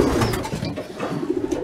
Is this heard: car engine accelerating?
no